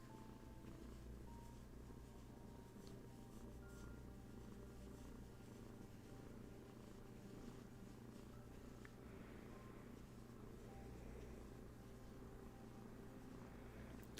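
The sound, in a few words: cat purring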